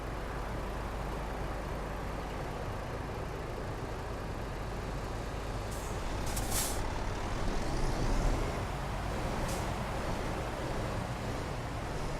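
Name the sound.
truck air brakes in Euro Truck Simulator 2 video game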